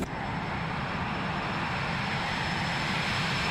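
A Boeing 727 climbing after takeoff in the X-Plane flight simulator, a loud continuous jet engine roar with a thin high whine, steady and alone throughout.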